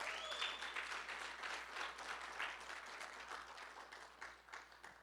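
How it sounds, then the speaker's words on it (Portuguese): A church congregation breaks into sustained applause, a dense, steady wash of many hands clapping that continues evenly for several seconds with a few voices mixed in. "Posso ouvir um forte aplauso ao Senhor?"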